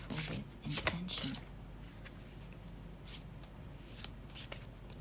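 A deck of tarot-style reading cards riffles and flutters in a few quick bursts at close range, followed by softer handling and shuffling noises, with no speech over it.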